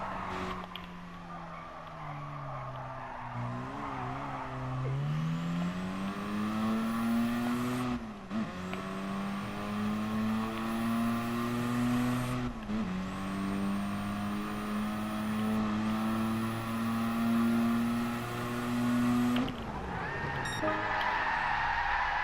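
A race car in Gran Turismo Sport howls through a corner, its engine note rising in steady pitch sweeps broken by several quick gear changes, while tires squeal and skid loudly underneath.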